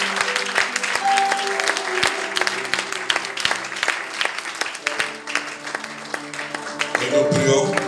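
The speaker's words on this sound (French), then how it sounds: "Acclame Jésus très fort." A church congregation applauds loudly and steadily to acclaim Jesus, dense clapping filling the space, with cheering voices and music-like tones rising underneath before a swell near the end.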